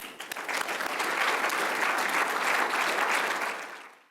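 Conference audience applauding to welcome a keynote speaker, a dense, sustained clapping that swells quickly, holds steady for several seconds, then fades out.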